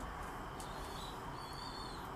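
Pigeons in a pigeon loft give low, soft, continuous cooing murmurs against a hazy background hum, with no talking.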